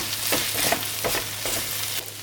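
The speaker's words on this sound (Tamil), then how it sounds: "தேங்காய் நல்லா வதங்கிடுச்சு." Grated coconut and green chilies sautéing in a pan for a chicken green curry, a close continuous sizzle broken by several soft stirring scrapes, with no voices.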